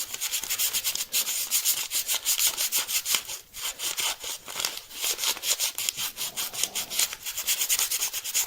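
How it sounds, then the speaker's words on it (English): A red wooden heart is sanded by hand with continuous rhythmic rubbing strokes, close and fairly loud, with no talking throughout. "So we'll go ahead and get this red heart sanded up"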